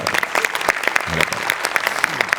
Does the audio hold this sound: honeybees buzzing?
no